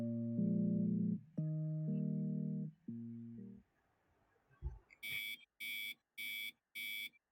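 An alarm clock in a yandere visual novel game goes off after a low buzzing tone, a loud electronic beep repeating in five evenly spaced pulses, crisp and close with no voices.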